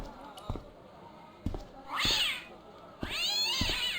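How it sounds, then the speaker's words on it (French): Cat meowing in the point-and-click adventure game Broken Sword, with two loud, drawn-out meows in the second half, preceded by a few soft clicks and thumps. "Il n'a pas aimé sa caresse, le chat."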